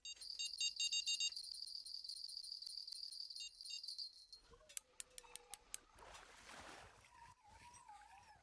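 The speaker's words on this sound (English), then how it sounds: "Yeah, I hear you beeping. I hear you beeping." Electronic beeping alarm while fishing on the Amazon, a short series of sharp, evenly spaced beeps after a stretch of high-pitched tonal hum, followed by faint water sounds.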